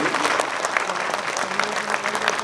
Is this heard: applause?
yes